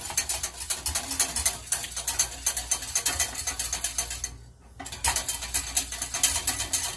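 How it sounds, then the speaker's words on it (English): Eggs whisked briskly in a pan for a lemon meringue dessert, rapid rhythmic scraping clicks of metal whisk on pan, close and steady, with one short pause partway through and no talking. "Now you're going to keep whisking in here."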